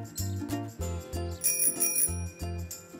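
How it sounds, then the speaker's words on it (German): A cartoon bicycle bell rings repeatedly in bright, quick trills, loud and close, with a bouncy musical backing and no voices. "Jedes Fahrrad sollte so eine Klingel haben."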